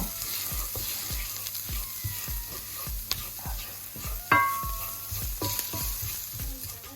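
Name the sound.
spices and curry paste roasting in pan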